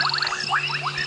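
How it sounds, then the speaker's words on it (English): Frogs calling at dusk on an African safari drive, bubbling kassinas and banded rubber frogs: rapid rising bubbling notes repeated in quick succession, fairly close and loud over a steady background hum. "we can hear bubbling casinas, banded rubber frogs,"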